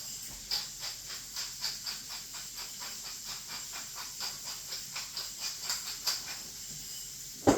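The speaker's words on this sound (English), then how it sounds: "you take your tomatoes and you throw your tomatoes in there." Tomatoes frying in a hot pan for Tuscan chicken, a steady close hiss with soft, regular pulsing crackles throughout and no talking.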